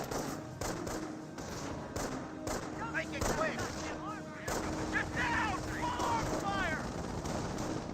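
Gunfire and explosions from a Company of Heroes battle, with MG42 machine gun bursts suppressing a rifleman squad amid volksgrenadier and pioneer fighting, dense and steady throughout, with a commentator talking over the combat.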